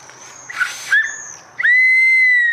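A loud, shrill whistle sounding in short bursts, then one long sustained steady tone, close and piercing.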